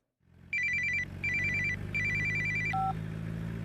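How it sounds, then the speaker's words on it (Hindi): A telephone rings in repeated electronic trilling bursts, three loud rings followed by a short single tone, over a low background hum. "तेरे लिए फोन है।"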